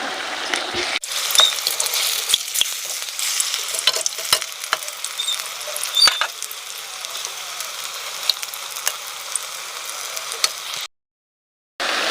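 Malpua atta pakora batter fries in hot oil in a kadai, with a steady close sizzle and crackle. Scattered clicks and scrapes from stirring come through, then a brief pause near the end.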